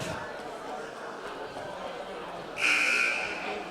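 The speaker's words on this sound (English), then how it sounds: "there's the buzzer." A basketball game buzzer sounds in a high school gym during a boys' game, a bright sustained tone about a second long rising over steady crowd chatter and murmur.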